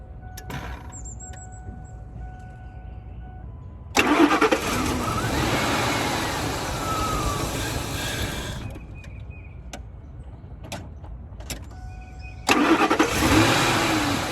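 A Ford F-150 pickup truck with a cleaned EGR valve cranks and starts, catching with a loud burst, then idles and runs steadily for several seconds, falls back quieter, and roars again near the end.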